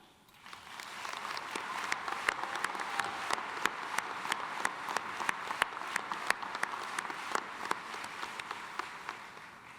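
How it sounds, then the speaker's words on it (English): A commencement audience at a Jesuit Catholic university's law school ceremony applauds steadily for nearly ten seconds, a dense, even wash of many hands clapping that sounds moderately distant, with no talking over it. "Let's share a round of applause for each other."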